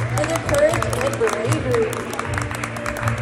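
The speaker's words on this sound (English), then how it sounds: "Let's give them a round of applause." A crowd applauds graduating Master Magi at a ceremony, giving a steady patter of clapping with a few cheers while voices talk over it.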